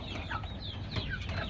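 Desi chickens kept at home cluck and murmur close by in a brief steady stretch, with no voices over them.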